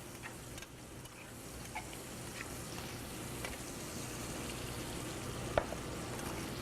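Bacon fries in a pan, rendering its fat for mac and cheese, a faint, even crackling sizzle with a few light ticks and pops and one small clink near the end.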